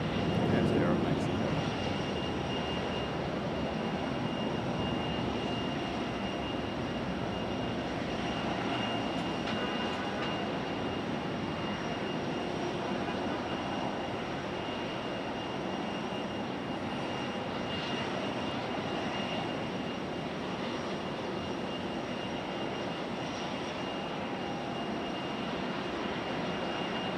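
An Aeromexico airliner at Raleigh-Durham airport sends out a steady, broad jet roar that holds fairly even for the whole stretch, with a voice talking now and then over it.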